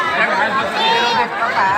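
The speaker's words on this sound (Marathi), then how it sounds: "इकडे लय गर्दी झाली हो" Brief crowd murmur in a packed New Year food queue at a temple, overlapping voices forming a steady babble.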